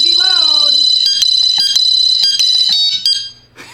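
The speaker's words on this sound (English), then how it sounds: "Now that's the alarm with the siren" A wireless motion sensor alarm's loud, piercing electronic siren wails continuously at close range, with sharp bursts and a voice briefly heard early on, before cutting off.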